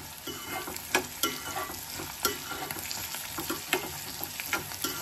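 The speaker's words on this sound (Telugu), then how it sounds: "పచ్చి వాసన పోయే వరకు మనం కొంచెం నూనెలో ఫ్రై చేసుకోవాలి." Curry leaves and turmeric fry in hot oil, a steady close sizzle broken by repeated scraping stirs, with no voices over it.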